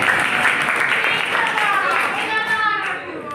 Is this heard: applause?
yes